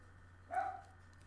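A single short dog bark from Minecraft, clear but fairly faint, standing alone against a quiet steady background.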